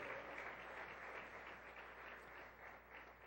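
A church congregation at a Sunday service applauds in a steady, dense wash of clapping that holds at an even level throughout, with no voices heard.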